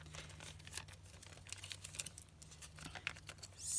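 Crinkling of a plastic bag as handmade sticky craft strips are tucked inside, quiet irregular rustles and crackles close by, no talking.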